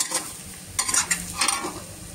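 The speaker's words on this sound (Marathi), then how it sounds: "व्यवस्थित मिक्स करून घ्यायचे" Stirring a potato and dal mixture in a pan, with a spoon scraping in quick strokes over a soft, steady sizzle, close and fairly quiet.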